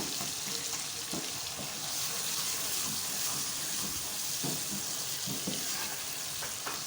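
Spices with red chili flakes and cumin are stirred in a hot pan, giving a steady, close sizzle and frying hiss with occasional soft scraping clicks of the spoon throughout.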